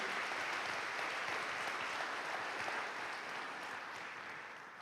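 Sustained audience applause fills a people's town hall, a dense steady wash of many hands clapping that stays loud before easing slightly toward the end.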